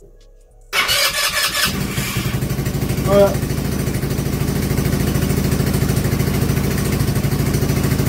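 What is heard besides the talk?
CRZ 2024 four-stroke quad engine starting and idling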